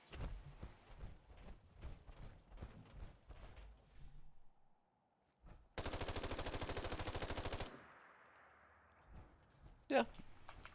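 An RU556 assault rifle fires in a modded Fallout game: a dense, loud burst of rapid automatic shots about two seconds long, with a few scattered single shots and clatter before it and a sharp report near the end.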